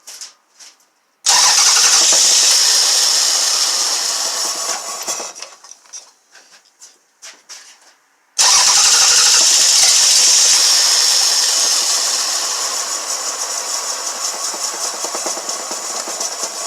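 A Toyota/Lexus car engine with a P1300 fault cranks and catches twice, running loudly for a few seconds, stalling, then starting again and settling into a steady, close idle.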